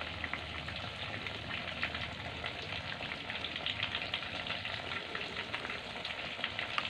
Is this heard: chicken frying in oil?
yes